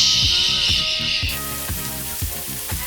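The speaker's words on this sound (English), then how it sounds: "Now that the pan is smoking hot, add a little bit of butter and then put your steak right in." Steady, loud sizzling and crackling of steak searing in butter in a smoking-hot pan, with a broad hiss and a few soft clinks and scrapes.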